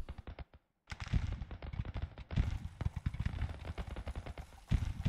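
Musket fire in Grand Tactician: The Civil War: rapid, overlapping crackling volleys of many shots, fairly distant and continuous after a brief silence near the start.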